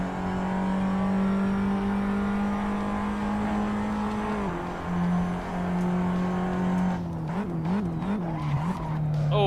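Car tires lock up and skid under braking during a ranked online race in Assetto Corsa, the steady engine drone dropping, then wavering into a loud warbling screech near the end over continuous race noise.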